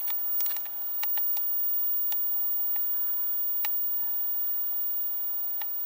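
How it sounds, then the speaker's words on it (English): An old tube television set ticks with sharp, irregular dry clicks spaced unevenly over a few seconds, each crisp and close, above a faint steady background hum. "It's making a ticking noise."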